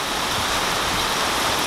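Heavy rain falling during a thunderstorm over Coeur d'Alene, Idaho, heard as a steady, loud, dense hiss with no thunder or voices standing out.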